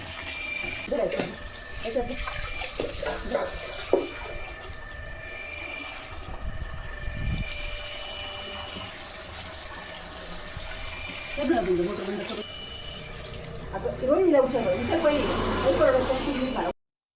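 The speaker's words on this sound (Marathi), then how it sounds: "या पद्धतीने स्वच्छ कचाकचा सोडून मी हे गहू धुवून घेतले." Steady running water from a motor pours over wheat grains being washed, a continuous close splashing wash with shifting gurgles and bursts of stirring, while voices speak in the background.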